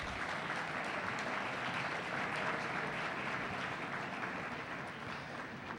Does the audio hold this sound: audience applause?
yes